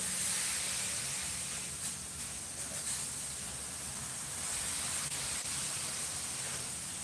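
Turkey smash burger patties seasoned with Hatch green chile sizzle steadily on a hot griddle, a loud, continuous hissing spatter close by with no talk over it.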